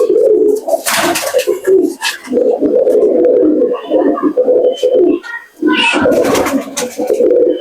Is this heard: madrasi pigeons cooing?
yes